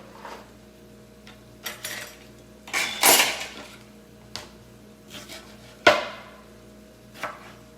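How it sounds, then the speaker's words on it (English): A knife cutting a banana on a board, several separate clicks and taps of the blade with a couple of sharper knocks, close and sparse, no talking. "Cut this banana."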